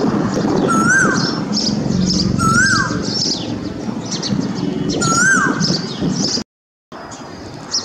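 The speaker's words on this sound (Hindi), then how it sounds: "देखिए एशियन कोयल है" An Asian koel repeats its rising whistled call three times against a dense, loud backdrop of other birds chirping outdoors, with a brief dropout of sound near the end.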